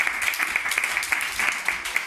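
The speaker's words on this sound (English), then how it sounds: "Ladies, a round of applause for that." Audience applause at a book launch, a steady wash of clapping from a room of listeners, moderately loud and continuous for a couple of seconds with small bursts of individual claps.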